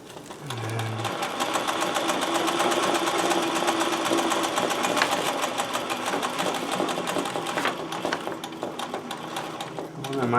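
A sewing machine stitching embroidery runs in a fast, steady mechanical rattle for most of the stretch, close and fairly loud, slowing into separate ticks toward the end.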